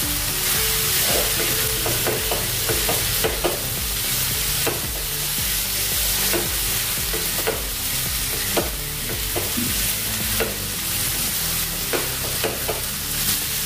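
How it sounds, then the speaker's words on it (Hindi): Sliced onions with curry leaves frying over high gas heat in a pan for an Indian chana dal curry, a constant loud sizzle with repeated scraping clicks of a spoon stirring through it, no voices. "बड़ा गैस करके मैं इसको पका रही हूँ। ऐसे चम्मच से हिलाते रहिए।"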